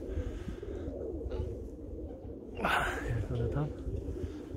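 Pigeons cooing from nesting trees in February, soft low coos in the background beneath a short spoken question, with a brief brighter rustling burst midway.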